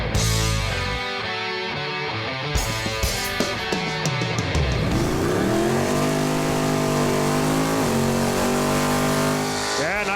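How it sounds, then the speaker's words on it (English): A drag racing car does a burnout at a drag racing event, its loud engine roaring and revving hard with rising and falling pitch, close and sustained throughout, with crackling bursts early on. "nice little burnout to start the show"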